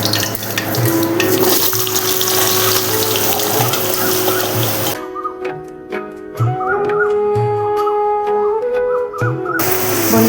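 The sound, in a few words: diced potatoes frying in oil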